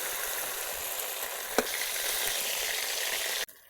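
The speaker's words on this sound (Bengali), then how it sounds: "ওই তেলের ভেতরে আলুগুলো ভালো করে ভেজে নেব" Potatoes fry in hot oil with a dense, even hiss that stays close and constant, one brief clack partway through, and the sound cuts off abruptly near the end.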